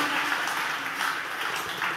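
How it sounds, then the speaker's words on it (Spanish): Applause for Jesus in the sacrament at a church celebration, as a crowd claps in a dense, steady wash that rises and falls slightly over two seconds without voices on top. "hayan fuertes aplausos a Jesús sacramentado"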